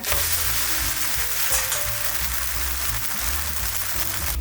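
A rava and poha dosa fries on a hot pan, giving a continuous, dense sizzle at close range with no talking over it.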